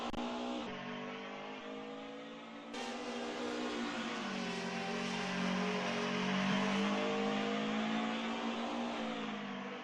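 A race car engine in the DTM Classics sim racing game roars steadily through the Bilstein Curve at the Mercedes Arena, a loud sustained high whine with a brief gear-change dip before pulling hard again.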